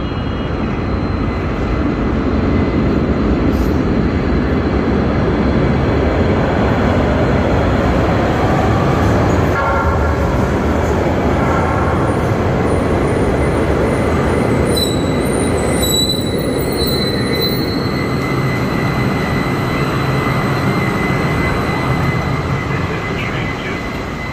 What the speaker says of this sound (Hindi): वो वाली ट्रेन आ रही है जिस ट्रेन के ऊपर मैंने जाना है।